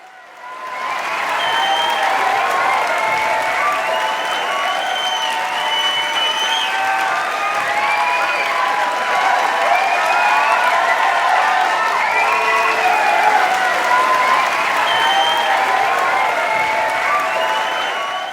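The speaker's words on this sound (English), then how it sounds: "And just listen to that applause." Loud, sustained audience applause at a stage musical performance of Singin' in the Rain, thick clapping with some cheering and voices rising through it, holding steady for the whole stretch.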